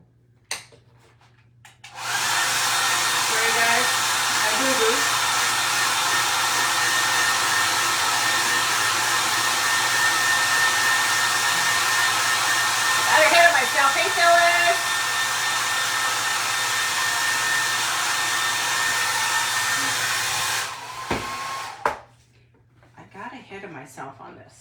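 A hair dryer blows on a craft piece, a cheesebox makeover, running loud and steady for about nineteen seconds before cutting off, with a brief clatter partway through.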